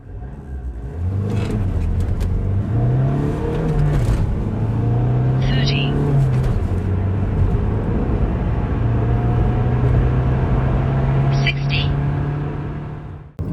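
A Hyundai i30 diesel hatchback revs up and accelerates hard through several gear changes, a loud droning rumble rising and dropping, heard from inside the vehicle.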